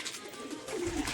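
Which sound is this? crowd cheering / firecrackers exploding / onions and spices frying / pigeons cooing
pigeons cooing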